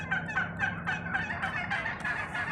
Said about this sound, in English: These are the in-charge turkeys, you see?